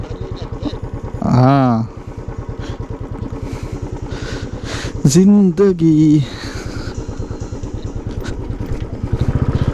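A motorcycle rides along Awas Beach in Alibaug, its engine thumping in a fast steady putter close by, while people shout and talk loudly over it in two bursts.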